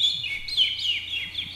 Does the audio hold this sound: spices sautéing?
no